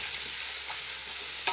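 Chicken cooks in a pot over an improvised wood-fired stove outdoors in the countryside, giving a faint, steady sizzle and bubbling hiss with small stirring clicks.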